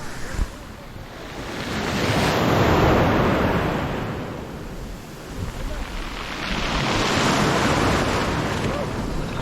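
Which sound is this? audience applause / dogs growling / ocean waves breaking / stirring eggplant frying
ocean waves breaking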